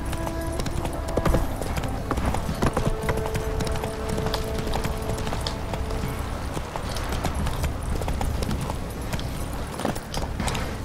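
Roach the horse gallops in The Witcher 3, rapid rhythmic hoofbeats pounding steadily and close for the whole stretch, with occasional game effects in the background.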